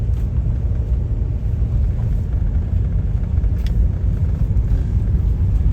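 Inside a GMC motorhome on a drive around town, a steady low engine rumble and road drone fill the cabin continuously, loud and close, with no talking.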